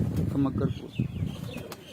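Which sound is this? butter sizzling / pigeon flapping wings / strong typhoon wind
pigeon flapping wings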